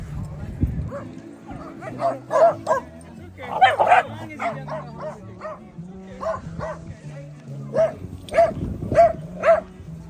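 Dogs at a forested dog park bark, yip and whimper in repeated short bursts at close range, heard over steady talk throughout.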